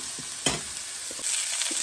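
Venison Salisbury steak patties browning in a hot pan, giving a steady soft sizzle with a few light stirring scrapes and one brief clatter, no voices.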